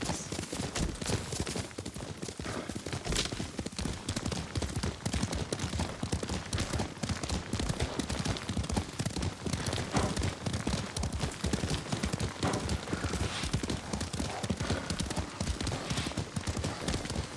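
Rapid hooves drum steadily in a galloping rhythm as a horse is ridden in Ghost of Tsushima, loud and close for the whole stretch, with occasional faint voices beneath.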